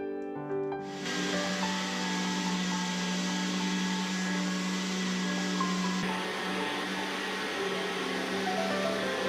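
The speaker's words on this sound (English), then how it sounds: "I always prefer to have my sander plugged into a vacuum or dust collection." An electric sander fitted with 60-grit sandpaper and hooked to a dust vacuum starts up and runs as a steady, loud whirring hiss, with no one speaking.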